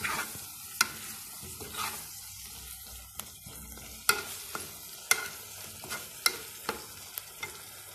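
Spoon stirring vegetables, tomato and chicken in a sizzling pan, with repeated sharp scrapes and clacks against the pan over steady frying hiss, close up.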